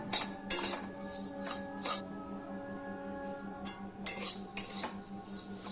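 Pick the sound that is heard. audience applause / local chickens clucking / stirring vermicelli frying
stirring vermicelli frying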